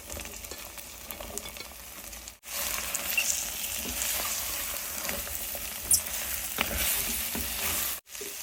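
Mixed vegetables frying in a pan for a sattvic dish with no onion or garlic, a continuous close sizzle with stirring scrapes and two brief pauses, with no voices.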